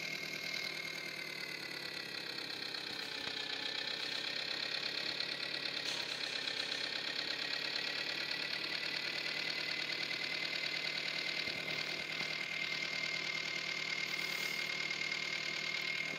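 A mini tractor engine idles steadily and evenly for the whole stretch, a continuous mid-pitched rumble with faint knocking and no voices.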